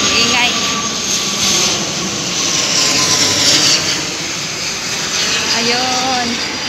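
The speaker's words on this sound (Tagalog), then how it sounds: "Ayan, aeroplano. Ingay." A loud aeroplane roars overhead with a broad, steady jet-engine rumble and whine that swells and eases over several seconds, with people talking faintly underneath.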